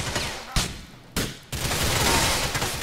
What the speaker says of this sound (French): On tire dans tous les sens.